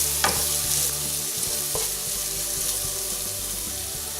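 Cod braising dish in progress as ingredients fry in a pan, giving a continuous close sizzle with occasional clinks and scrapes of stirring, no talking.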